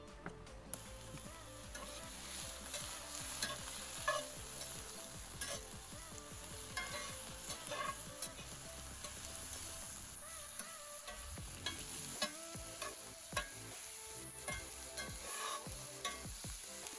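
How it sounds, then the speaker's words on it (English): Chopped vegetables sauté in a hot skillet, giving a quiet, continuous sizzle broken by light stirring clicks, with no voices. "Vegetables are getting sauteed."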